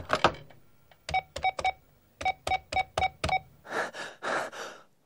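Telephone being dialed: a run of about a dozen sharp keypad tones pressed in uneven bursts, followed by a couple of breathy noise swells at the end.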